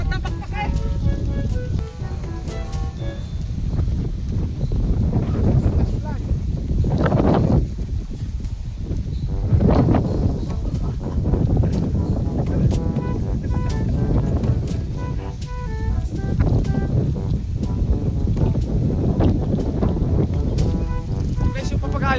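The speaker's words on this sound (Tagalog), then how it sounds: "Sobrang lakas lang talaga ng hangin" Strong wind buffets the microphone outdoors while a homemade stick kite is flown, roaring in continuous gusts with occasional louder surges, and someone talks over it now and then.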